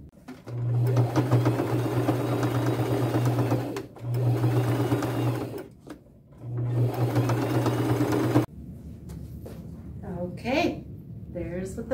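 Sewing machine stitching butterfly appliques onto overalls, three steady whirring runs of a few seconds each separated by short pauses, close up, followed by light handling noises.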